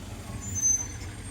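An egg-carrying lorry sits with its engine rumbling low, and a thin hiss of air brake release rises briefly above the steady truck drone.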